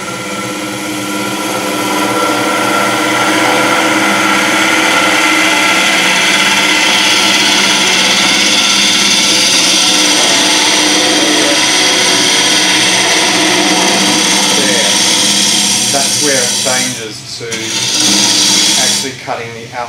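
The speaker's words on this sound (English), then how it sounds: "Cutting the outside of the wood." Wood lathe turning a natural edged bowl, the tool cutting the outside with a loud continuous rushing scrape and hum, ending in a brief pause and resumed cutting.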